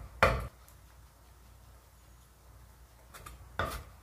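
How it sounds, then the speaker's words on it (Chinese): A knife chops a tomato on a cutting board during home cooking, giving two sharp, close knocks about three seconds apart with faint quiet handling between them. "番茄就把它剁碎，"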